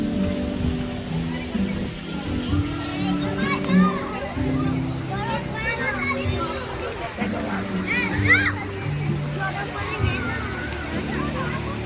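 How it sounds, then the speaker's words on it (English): Children shout and play while water splashes and sloshes at a resort water park, a busy lively mix of young voices and constant splashing throughout. "So this is the water park"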